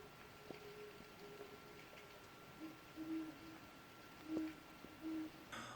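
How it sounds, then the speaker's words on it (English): An owl hoots faintly in the distance several times, in short low calls spaced across a quiet desert setting, with steady background hiss and no talk. "I think that I just heard an owl."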